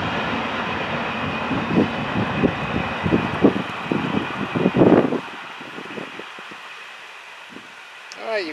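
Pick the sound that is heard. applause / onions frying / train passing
train passing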